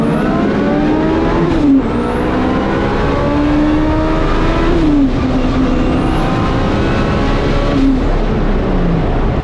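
A Honda Civic race car fitted with a dog box gearbox accelerates hard at a racing event, its engine loud and close, climbing in pitch through three gears with sharp dips as the throttle lifts between each shift.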